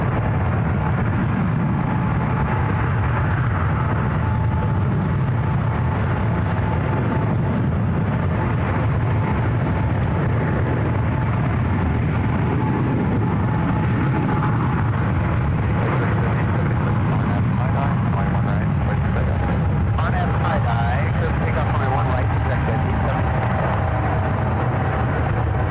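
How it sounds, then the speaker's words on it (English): An Eva Air Boeing 777-300ER takes off from runway 28 left at San Francisco, a long, loud, broad engine roar rumbling continuously, with people talking faintly beneath it. "This is Eva Air Flight 7 taking off to Taipei on the 777-300ER."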